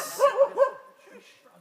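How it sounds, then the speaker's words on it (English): A small dog barks three times in quick succession, fairly close, at an outdoor spoken-word event in Favour Royal Forest, Northern Ireland, then the sound trails off into quiet background noise. "And we've a dog at the event."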